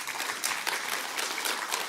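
Brief applause from a church congregation, a soft, steady patter of many hands clapping that lasts under two seconds and stays fairly faint and distant.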